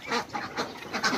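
Molting ducks calling in a farmyard, a few repeated nasal quacks in a loose rhythm, close and moderately loud with no talk.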